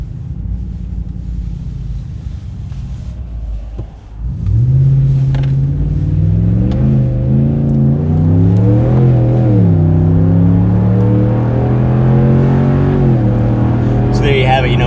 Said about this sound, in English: I'm gonna put my foot into it and let you guys hear it at wide open throttle.